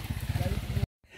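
A motorcycle passing on a road, its engine rumbling steadily for under a second before cutting off abruptly, with no voices over it.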